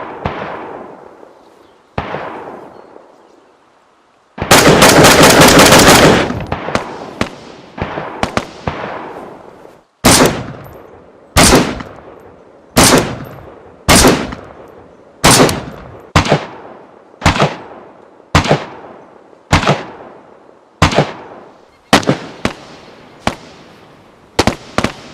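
Gunfire from the video game DayZ, a dense opening burst followed by a long series of single sharp shots spaced about a second apart, each cracking loudly and decaying into a short echoing tail.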